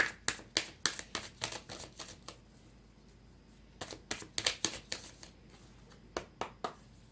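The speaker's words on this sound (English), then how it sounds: "I'm going to pull a few cards here before we get started" Tarot cards are pulled and handled close up in bursts of crisp flicks, snaps and slides, with a quiet pause midway before the quick card handling resumes.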